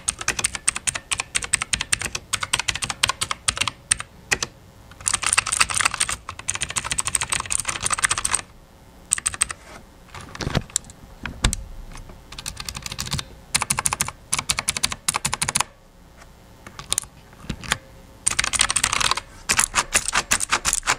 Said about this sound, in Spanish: si les gustan los teclados clicky, este es una delicia para escribir en él.